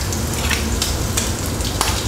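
Shrimp frying in coconut oil for an Indian-style curry, a dense, loud sizzle crackling steadily up close with a few sharper pops breaking through.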